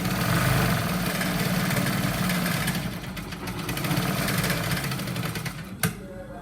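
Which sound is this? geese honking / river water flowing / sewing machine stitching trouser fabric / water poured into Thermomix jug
sewing machine stitching trouser fabric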